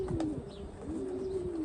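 A young racing pigeon from a long-distance bloodline coos in a loft, a soft low throaty call repeated a couple of times close by, over faint background noise.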